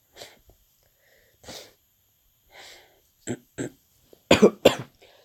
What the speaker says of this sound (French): Excusez-moi pour la toux, hein.